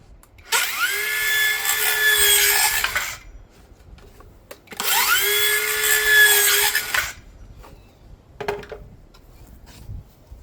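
Hercules 4.5 inch saw making freehand cuts through thin 1/2 inch plywood: two loud, sustained high-pitched whining cuts of about two and a half seconds each, separated by a quiet pause, followed by a brief fainter burst.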